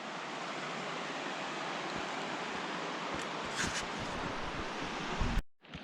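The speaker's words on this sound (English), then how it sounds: "Beautiful river." River in Cascade Canyon in the Grand Tetons, rushing as a loud, dense, continuous broadband roar close by, with a brief dropout near the end.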